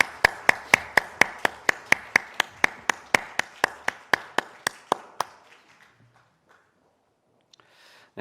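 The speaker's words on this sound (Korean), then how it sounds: "하나님께 영광의 박수 올려드리겠습니다." A church congregation at a Sunday worship service claps in tight unison, about twenty sharp, evenly spaced beats, then stops and leaves near silence.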